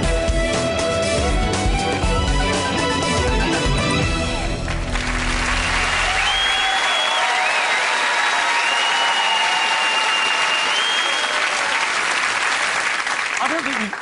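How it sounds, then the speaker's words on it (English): A studio audience gives a loud, sustained ovation, with dense clapping and cheering that carries on for the whole stretch, while music plays under it for the first few seconds. "Ever had a louder ovation for any guest in the history of Life Stories?"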